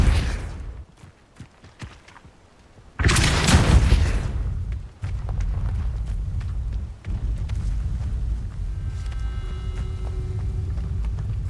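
A Depulso spell is cast in Hogwarts Legacy, a sudden loud forceful blast after quieter game sounds, followed by a sustained rumbling wash with sharp impacts and a faint tonal shimmer toward the end.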